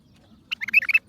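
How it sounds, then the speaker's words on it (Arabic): Bulbuls singing on a farm, a quick burst of several bright chirping notes after a brief near-silent moment, fairly close and clear. "اسمع تغريد البلابل هنا حالاته."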